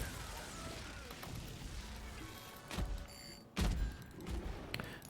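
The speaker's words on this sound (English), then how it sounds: "Get some grenades going here." Booming grenade blasts in the online battle game Heroes of the Storm, two heavier thuds standing out over a steady bed of game noise, fairly close and moderately loud.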